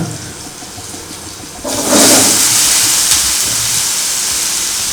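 Brinjal pieces drop into a hot pan for a spice-free eggplant bharta, and a sudden loud sizzle bursts out and continues as a steady hiss.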